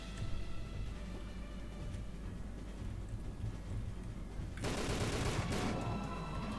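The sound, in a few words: gunfire in video game Tomb Raider: The Angel of Darkness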